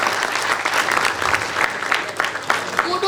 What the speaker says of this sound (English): I would like all of the participants to clap for yourselves.